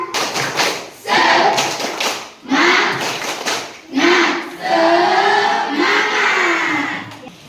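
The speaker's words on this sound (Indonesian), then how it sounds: "Mari kita sama-sama tepuk semangat dulu." A school class performs tepuk semangat, the Indonesian rhythmic spirit clap, in bursts of loud unison clapping broken by children's shouted chant-like voices, close and energetic, several short phrases in a row.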